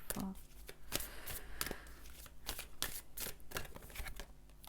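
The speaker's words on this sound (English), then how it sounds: "So let me just pull in one each of these oracle cards." Oracle cards shuffled and pulled one by one, a steady run of close, crisp flicks and papery slaps with brief snaps, quiet overall.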